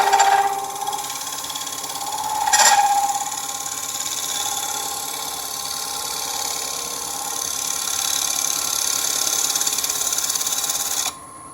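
A wood lathe spins a dry wood bowl with a steady, loud mechanical whir, while a turning tool bites the wood in a couple of brief, harsher scraping bursts before the hum cuts off abruptly near the end.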